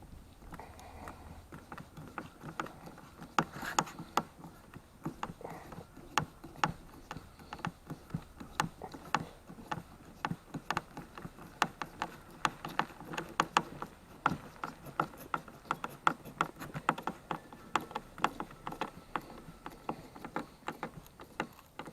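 A screw is driven into a blow-molded plastic case for a floor jack, giving a long run of rapid, sharp ticking clicks, close and fairly steady with brief pauses.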